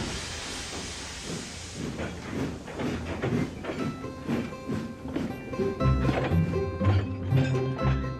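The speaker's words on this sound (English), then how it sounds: "Emily buffered up to the slow goods train" A steam locomotive in the Trainz railway simulator buffering up to a slow goods train, a loud hiss of steam giving way to chuffing and clanking wagons, with no voices.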